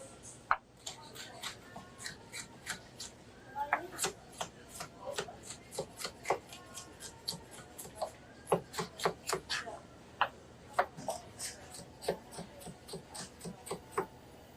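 A knife cuts peppers into julienne strips on a board with quick, crisp taps in irregular bursts, close and clear under a quiet background.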